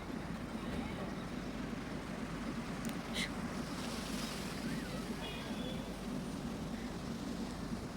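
Ocean surf washing in steadily at Digha beach in West Bengal, a continuous broadband roar of breaking waves with wind, loud and unbroken throughout.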